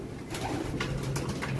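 A pigeon coos in low, soft repeated throaty phrases close by, with a faint background hum and no talking.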